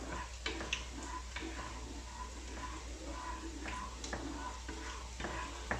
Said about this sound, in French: Donc là je remue, hein, vraiment pour lier les deux